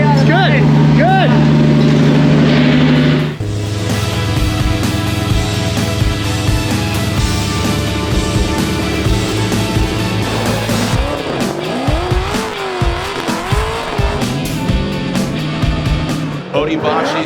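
A supercharged Nissan S15 drift car on Falcon tires revs hard and loud while drifting, its high engine wail joined by squealing tires and shifting pitch, with a commentator talking over it.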